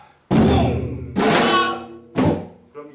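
A Korean accompaniment drum plays the jajin dombuli rhythm: three loud, resonant strokes with booming low body and ringing decay, the last one shorter, followed by a lighter tap, close up and without talk.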